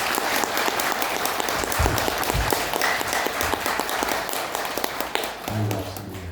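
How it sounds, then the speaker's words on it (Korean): Congregation applauding in a church to welcome a visiting pastor at a Korean worship service: steady, dense clapping fills the whole stretch, with a few louder thumps and some voices underneath near the end. "우리 목사님 나오실 때에 뜨겁게 환영의 박수로 맞이하겠습니다"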